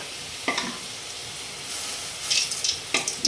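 Spring potatoes coated in masala fry in a pan with a steady low sizzle, broken by a few scraping stirs and clinks of a spoon as the pieces are turned.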